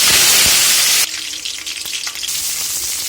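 Mustard seeds and curry leaves dropped into hot oil, a loud close sizzle that bursts hard at first, then settles into a lower crackling fry after about a second.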